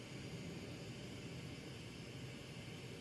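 Big glassblowing torch flame roaring in a hot shop, a steady, even broadband rush of burning gas that holds constant at moderate level without breaks.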